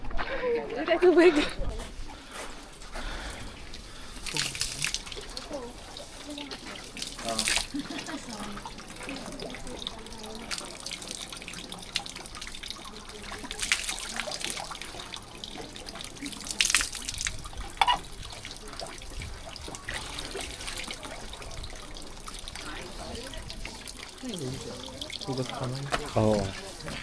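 Running water from a tap or fountain on a walk through Tokyo, a faint trickling and splashing under frequent nearby talk and street noise.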